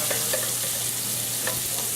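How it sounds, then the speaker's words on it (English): Sage leaves and chicken livers frying in a pan with pepper and browning garlic, a steady broadband sizzle with soft scattered pops and stirring clicks, close and even throughout, no voices. "At this point we can introduce our sage to the pan."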